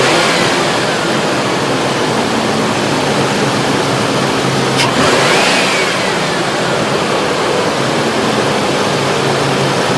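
A 1997 Mercury Grand Marquis engine idles with a slight skip, a steady loud running drone with a brief disturbance midway, no talk over it.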